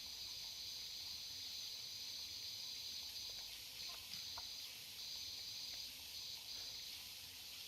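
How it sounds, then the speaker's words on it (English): Water hisses and sprays steadily in Powerwash Simulator 2, a continuous bright rushing wash with faint gurgles and ticks beneath, holding at an even level throughout. "Hey, Finn, I hear splashing, gurgling."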